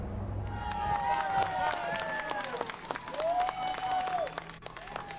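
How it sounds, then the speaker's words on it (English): Hundreds of mourners at an outdoor memorial in East Harlem clap and cheer, a distant crowd of scattered applause with whistles and rising, sliding tones over it, under a narrator's voice. "Hundreds of mourners clap, cheer, and cry as they release fistfuls of white balloons into the blue sky"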